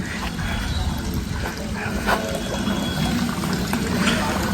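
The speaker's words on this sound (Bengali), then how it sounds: "চলো ঢেলে নেওয়া যাক 1 লিটার তেল।" One litre of petrol is poured from a bottle into the fuel tank of a Pulsar NS200 motorcycle, a steady close gurgling, splashing stream that runs without break.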